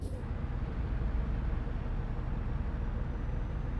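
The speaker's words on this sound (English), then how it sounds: "Which engine sound do you like more than Scania, the V8 or the regular?" A Scania V8 truck engine in a truck driving video game drones steadily with a low rumble, constant and even throughout, with no talk.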